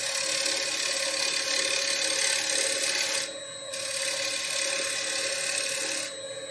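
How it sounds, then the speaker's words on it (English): A lathe tool makes light shear cuts on a dried green wood bowl, producing a continuous close scraping rasp that drops away briefly twice before resuming. "A little shear cuts now."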